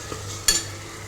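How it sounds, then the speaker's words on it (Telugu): Ginger garlic paste frying on high heat in a pan for an eggplant and goat head meat curry gives a soft steady sizzle, with one sharp stirring scrape near the middle and no talking. "అల్లం వెల్లుల్లి పేస్ట్ వేసిన తర్వాత మాత్రం అది బాగా వేగాలి"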